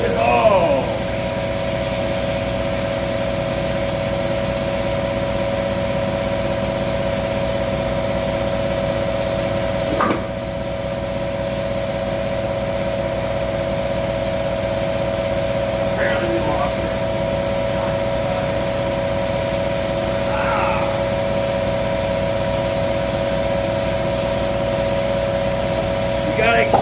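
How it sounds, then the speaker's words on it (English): An air compressor runs in a workshop during an engine teardown, giving off a steady, even drone with a few faint clicks and knocks over the top. The hum holds constant throughout and is fairly loud. "Gotta excuse the compressor, but we gotta keep it running or it won't build."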